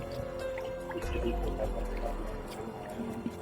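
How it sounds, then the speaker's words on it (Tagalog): A creek flows gently with faint trickling and dripping water, a soft steady burble close by with small splashes scattered through it. "Dito kami sa may sapa idol."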